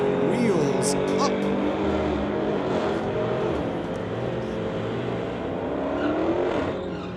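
A 1972 Chevy launches wheels-up at a drag race, its engine roaring loud and steady as it pulls away, with an announcer's voice over the noise.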